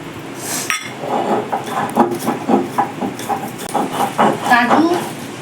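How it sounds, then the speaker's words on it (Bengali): Cashews and poppy seeds for shahi paneer are ground together on a grinding stone, a rhythmic series of scraping, rolling strokes with light clinks, close and fairly loud, a voice speaking now and then. "এরপর আমি কাজু আর পোস্তটা একসঙ্গে বেটে নেব।"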